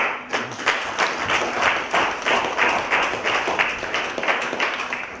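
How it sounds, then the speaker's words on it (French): Audience clapping at a poetry award ceremony, with a steady burst of hand claps across roughly five seconds and an even, lively rhythm throughout. "ils ont toutes mérité un bel applaudissement"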